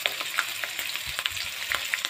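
Beef head skin frying with cumin paste in a sizzling pan, a steady crackling sizzle with scattered sharp pops and light stirring scrapes throughout, close and fairly loud.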